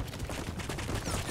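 Rapid gunfire from a helicopter turret in the game Rust rattles in a dense, continuous burst, loud and close throughout.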